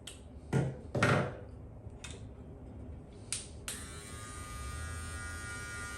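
BaBylissPRO GOLDFX outlining trimmer cutting coarse hair, a few short rustling bursts and clicks followed by a steady close electric buzz that continues to the end.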